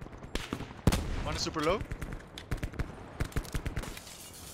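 Gunshots in a video game crack out in a rapid, uneven string of sharp reports, close and loud, with someone talking briefly over the firing.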